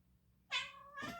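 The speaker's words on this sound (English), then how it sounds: "my cat yells at me sometimes" A house cat lets out two loud, close meows in quick succession, the first longer and higher, the second rougher, after a quiet moment.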